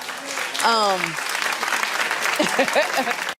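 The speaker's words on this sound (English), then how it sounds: "Stop clapping, you fools." Audience clapping in a talk-show setting, a dense burst of applause that runs the whole stretch while voices and a sung or drawn-out tone rise over it.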